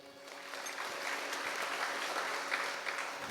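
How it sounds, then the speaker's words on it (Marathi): Audience applause at a devotional religious discourse gathering, dense continuous clapping from many hands, fairly faint and distant but steady across the whole stretch. "आपण एकदा जोरदार टाळ्या वाजवायच्या आहेत"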